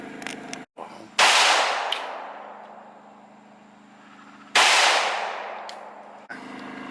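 Two loud, close AR-15 rifle shots fired at a metal target, each a sharp crack with a long ringing decay, spaced a few seconds apart with quiet between.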